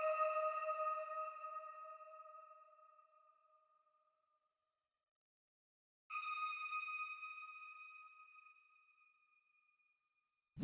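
Ambient synth melody loop made in FL Studio with reverb, stereo widening and low-cut EQ: two sustained, shimmering chord phrases, each swelling in and slowly fading into a long reverb tail, with silence between them.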